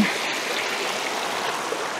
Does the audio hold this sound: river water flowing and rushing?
yes